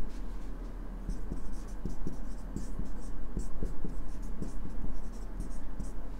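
Pen writing a line by hand on paper, a series of soft, close scratchy strokes and taps in an irregular rhythm over a low steady hum.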